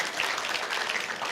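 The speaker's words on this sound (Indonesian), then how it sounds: "Kita beri tepuk tangan." Congregation at a church service giving applause, a brief, moderately quiet patter of many hands clapping together.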